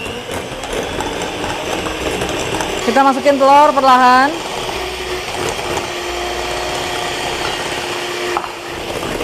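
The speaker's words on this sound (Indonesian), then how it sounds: "ini mixernya emang agak-agak ngegas" An electric mixer beats choux pastry dough as eggs are added for durian chewy puffs. Its motor hum bursts into a loud, wavering whine for about a second before settling back, under a voice talking.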